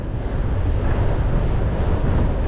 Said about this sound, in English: Unbelievable headwind, just come out of nowhere.